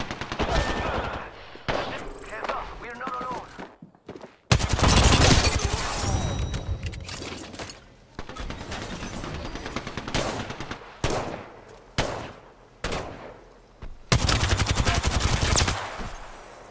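Apex Legends gameplay carries repeated bursts of automatic gunfire and loud shots, broken by brief pauses, with heavy booming blasts near the middle and at the end.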